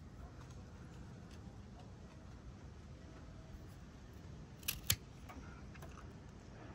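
Pruning shears snip a fig cutting, giving two quick, crisp clicks close together near the end of an otherwise quiet, faint stretch of room background.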